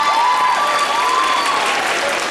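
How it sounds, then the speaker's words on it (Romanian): Steady, dense audience applause fills the room at a high school freshman ball, loud and continuous, with a faint tonal whistle or feedback line drifting above the clapping. "Vă rog frumos să-l aplaudați."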